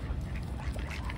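Ducks, joined by swans, quack close by while being hand-fed in Bergen, a short continuous burst of calls over a low rumbling background.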